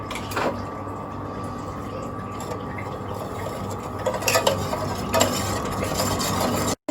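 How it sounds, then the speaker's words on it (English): A spoon stirs Oreo pudding mixture thickened with corn flour as it boils in a pot on a stove, giving steady close scraping and bubbling with a constant hum and a few louder clinks and scrapes near the end. "Keep stirring."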